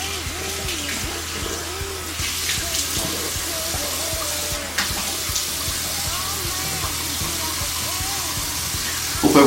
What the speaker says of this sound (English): So just wet my face and get right to it.